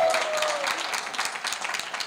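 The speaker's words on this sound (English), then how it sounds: "A little applause here." Guests at a children's book launch give a brief burst of applause, dense clapping and cheering filling the room for about two seconds at fairly close range.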